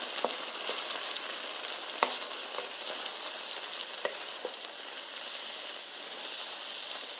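Eggs frying in a pan for fried rice, a steady close sizzle and crackle with occasional sharp pops and light clatter from stirring, and no voices.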